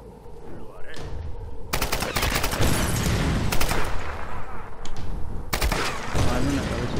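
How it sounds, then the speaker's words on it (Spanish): Gunfire in Tomb Raider Definitive Edition: loud, rapid automatic bursts crackle repeatedly, each burst lasting a second or two, with brief gaps between them. "Hora de meterte unos cuantos disparos."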